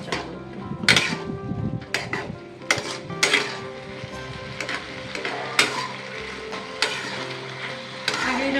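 Potato curry with Maggi masala being stirred in a kadai, soft sizzling under repeated sharp clanks and scrapes of a spatula against the pan at an irregular rhythm.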